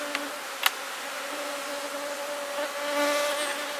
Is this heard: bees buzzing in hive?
yes